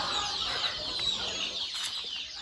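Native country chickens clucking in a farmyard, a dense continuous chatter of several birds close by with a steady busy rhythm and no speech.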